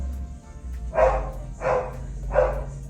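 A dog barks three times at an even pace, a little distant, over a low steady background hum.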